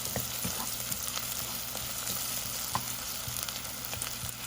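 Food sizzles and fries in a little oil in a pan while cooking chicken and mushroom pasta, a steady close crackle with occasional stirring scrapes and no talk.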